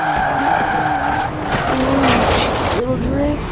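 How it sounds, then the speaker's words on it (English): A car in the racing video game Forza Horizon 4 drifts and spins out, with loud sustained tire squeal and engine whine, and a person talks over it. "Little drift into a spin out."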